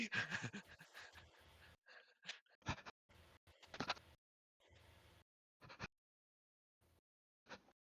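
A person imitates a panting dog with quick, breathy huffs in irregular bursts and short pauses, faint and close, with no other voices.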